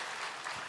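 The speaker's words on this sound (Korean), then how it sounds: "우리 다시 한번 박수로 축복하겠습니다" Applause from a church congregation at the close of a Sunday worship service, a brief dense patter of many hands that stays steady and fairly distant throughout.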